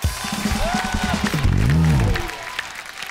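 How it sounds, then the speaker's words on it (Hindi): Studio audience applause on The Kapil Sharma Show greeting guest Sanju, a steady wash of clapping mixed with crowd noise and a voice calling out over it, sustained loudly throughout. "जोरदार तालियां एक बार संजू सर के लिए"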